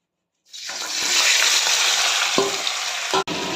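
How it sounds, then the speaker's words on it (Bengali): Small mixed fish drop into hot oil and break into a loud, steady sizzle that builds within a second and carries on close by, with a few brief clatters partway through and no talk. "মাছটা দিয়ে দিয়েছি, এবার একটু ভাজা ভাজা হয়ে আসলে উল্টে দেবো।"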